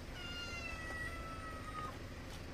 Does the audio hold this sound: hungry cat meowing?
yes